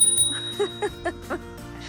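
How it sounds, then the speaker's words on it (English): A bicycle bell rings several times in quick, bright dings, close by, with a faint low hum underneath. "There's the bell."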